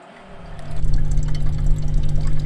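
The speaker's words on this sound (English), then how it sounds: "they come with a rechargeable electric pump. You can just fill your water." Water gushes from a rechargeable electric pump into a 2.5-gallon water container; after a short hum the stream starts abruptly and continues as a loud, steady close pour.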